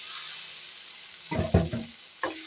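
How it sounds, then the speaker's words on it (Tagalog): Ground meat sizzles with tomatoes in a pan, a steady soft hiss broken by several close, chunky stirring scrapes and one final stir. "Mag-gigisa po tayo ng giniling ang ulam natin today."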